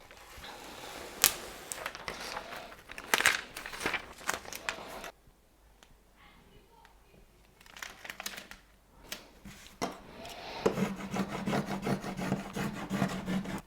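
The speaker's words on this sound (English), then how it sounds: "We need to burnish this on really well, making sure that all the little pieces transfer over." Transfer tape being burnished firmly onto wood for a heat-gun wood-burning project: repeated close, scratchy rubbing strokes in bursts, with a quiet pause in the middle before the rubbing resumes.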